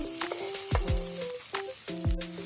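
Minced garlic sautés in a pan for sloppy joe shells, a bright, close hiss of frying overlaid by a few short scraping or squeaking swoops as it is stirred.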